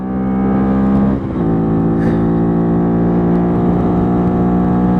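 A Bullit Hero 50cc motorbike on a road ride after a service, its small engine whining loudly and close as it slowly builds speed, with a brief dip near a gear change before the buzzing tone carries on steadily.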